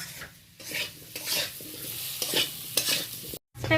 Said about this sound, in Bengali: ওতেই আমি আলুগুলো ভেজে একদিকে তুলে নিচ্ছি